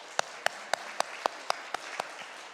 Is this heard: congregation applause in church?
yes